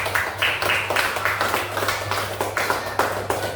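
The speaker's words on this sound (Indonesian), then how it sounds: "Ya, kasih aplaus untuk kelompok 4" A classroom audience applauds group 4 with a steady run of overlapping hand claps at moderate loudness, lasting a few seconds over a low background hum.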